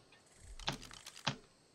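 Computer keyboard keys on a damaged keyboard are pressed in a quiet room, two soft close clicks about half a second apart with faint background hiss.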